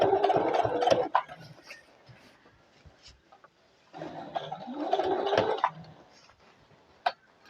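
Bai Mirror 1501 embroidery sewing machine sewing a straight stitch around an embroidery patch: two close bursts of steady mechanical whirring, each about a second or two, separated by quieter pauses with small clicks and handling sounds.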